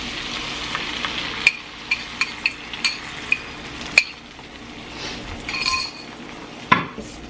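An egg mixture meant for a soft spinach scramble hits a hot pan with a soft sizzle. A utensil scrapes and clinks sharply against the pan several times in an irregular rhythm, close up.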